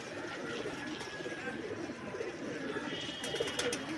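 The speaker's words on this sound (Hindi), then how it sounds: "ये बड़ा टोपी बटेरा कबूतर है" Topi pigeons softly cooing in a home loft, low faint coos under a voice talking, with some light chattering in the background.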